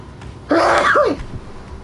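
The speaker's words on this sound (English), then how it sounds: "I gotta sneeze." A single loud sneeze from an adult, a sharp burst followed by a short falling vocal tail, with quiet room tone before and after.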